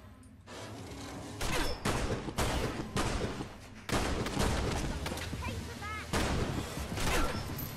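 Gunfire from a gun in the Fallout London mod, loud repeated bursts of shots in uneven clusters over several seconds, dense and close, with brief pauses between volleys.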